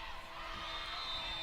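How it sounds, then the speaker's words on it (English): Spectators at a sorority 7-on-7 intramural flag football championship cheer and whoop in a steady, moderately distant roar, with scattered shouts rising from the sidelines. "Crowds are getting into it here, both the Alpha Gam side and the AOPi side"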